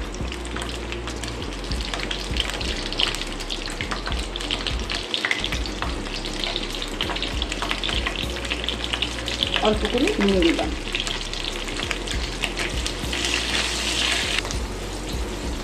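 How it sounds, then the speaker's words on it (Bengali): Capsicum being lightly fried in oil with a steady, close sizzle that runs the whole way through, with a brief stir partway and a voice talking over it. "ওই একই তেলে আমি ক্যাপসিকামটাকে হালকা করে ভেজে নিচ্ছি"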